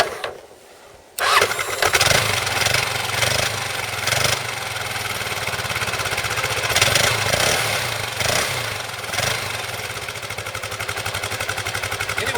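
A Kawasaki KLR motorcycle cranks and fires up on a cold day of about 20 degrees, then settles into a loud, steady, throbbing idle close by.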